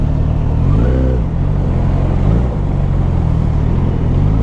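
Road traffic with cars heading toward Angeles City, a loud, steady engine rumble with a couple of rising and falling revs from passing vehicles.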